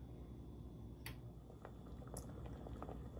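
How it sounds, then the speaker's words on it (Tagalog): Beef tapa simmering in water and oil over low heat in a pan, a steady soft bubbling and sizzling with a few sharper pops and crackles, close and continuous with no talk. "Ang pagpiprito ko pala ng tapa, ilalagyan ko muna siya ng tubig at mantika at pakukuluin natin ng mahinang apoy"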